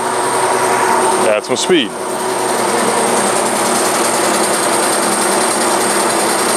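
A large bandsaw runs with a steady high mechanical whine as it begins cutting into a bath tub, with a brief clatter early on and someone speaking over it.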